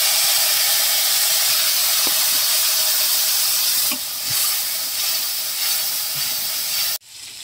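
Spice paste with onion and ginger frying in a pan gives a steady loud sizzle and hiss with faint clinks and stirring, then cuts off abruptly near the end.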